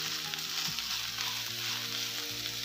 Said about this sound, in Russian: к луку добавляем фарш и вместе обжариваем все.